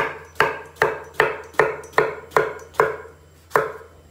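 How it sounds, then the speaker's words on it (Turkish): A knife chops through eggplants on a cutting board in a slow, even rhythm, about nine sharp, close thuds with no talking. "Hemen patlıcanlarımızı doğrayacağız."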